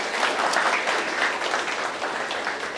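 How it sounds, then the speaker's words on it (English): A room full of audience members applauds during a mentalist and mind-reader show, a short burst of dense, steady clapping at moderate loudness with no talk over it. "with a round of applause for yourself"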